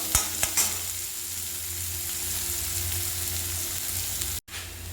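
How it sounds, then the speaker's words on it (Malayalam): Onions frying in a pan for multigrain kichadi, a loud even sizzle throughout with a couple of stirring clinks at the start and a momentary cutoff near the end. "നമുക്ക് നന്നായിട്ട് ഫ്രൈ ചെയ്തെടുക്കാം"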